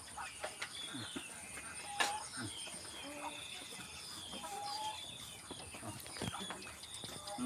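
Chickens cluck and chirp in a busy farmyard, with scattered calls from several birds over a steady background hum and occasional knocks.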